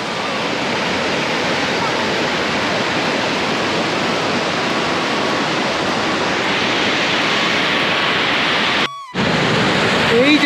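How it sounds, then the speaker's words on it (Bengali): Roaring waterfall up close on a river stretch between Lingtham and Rangpokhola, a loud dense unbroken rush of water that fills the scene and briefly cuts out near the end. "এই জায়গায় ঝর্ণার আওয়াজ ছাড়া কিছুই শুনতে পাওয়া যাবে না"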